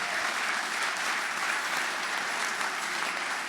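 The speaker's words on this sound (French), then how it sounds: "Est-ce qu'on peut acclamer pour Jésus?" A worship congregation at a prophetic night service bursts into steady, dense applause, a loud unbroken wash of clapping with faint crowd noise and no speech.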